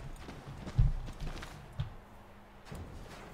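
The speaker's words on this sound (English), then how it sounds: "Our horse ran off." A horse in the snowy winter landscape of Assassin's Creed III moving off, with a couple of soft, muffled hoof clops against a quiet background.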